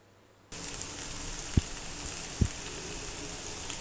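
Onions sautéing in a pan for a hotel-style poori masala, a dense even sizzle starting abruptly and continuing close and steady, broken by two sharp thuds of a spoon against the pan, no talking.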